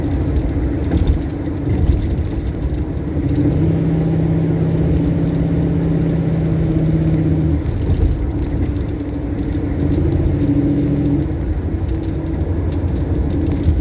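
Ford Mustang Mach 1 driving on the road, a loud continuous engine drone and tyre rumble heard from inside, with the note rising and holding as it accelerates, then easing off.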